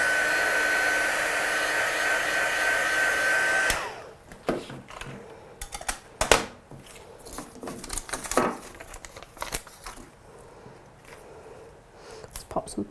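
A heat gun blows steadily on a freshly stamped card to dry the ink, a loud continuous airy roar for the first few seconds that then cuts off, leaving quieter handling noises and light tapping.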